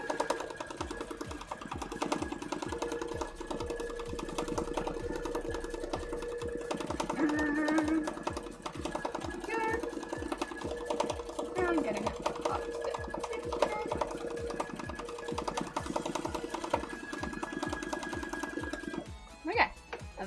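A sewing machine runs a rapid, steady stitching rhythm while doing fire embroidery, drawing orange and red thread into a cosplay piece; someone talks over the mechanical whirring throughout.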